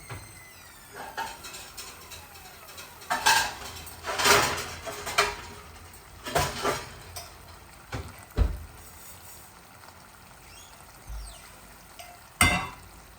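Spices and aromatics hit hot oil in a pan to temper Bangladeshi dal, giving several sharp crackling sizzle bursts with clinks of a pan or utensil in between, close and fairly quiet, with no talking.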